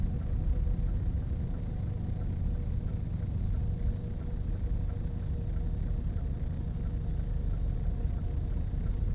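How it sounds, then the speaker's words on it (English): A heavy truck in Euro Truck Simulator 2 drives along with a steady low engine rumble and faint rattling cab noises, continuous and even throughout, with no talking. "See all these noises that are happening in the background here on the truck?"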